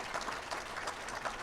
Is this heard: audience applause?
yes